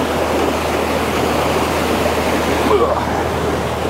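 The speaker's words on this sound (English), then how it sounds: "Very narrow right here, but very fast moving water." Fast water rushing steadily through a narrow canyon beside a small waterfall, a constant close, loud roaring wash with no voices.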